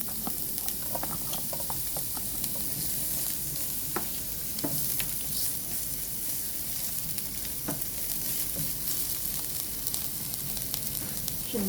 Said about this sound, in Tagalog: Ilagay na natin ang ating onion.